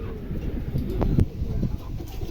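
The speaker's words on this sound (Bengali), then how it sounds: "চমৎকার এক জোড়া কবুতর, ভালো লাগলে অবশ্যই সংগ্রহ করতে পারেন" A pair of Mondi pigeons offered for sale coo in low, throaty burbles, with a few soft calls close by over a light background murmur.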